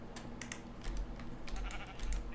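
Sheep bleat in a Minecraft-style survival game, a few short cries mixed with rapid computer keyboard clicking at close range, with no talking.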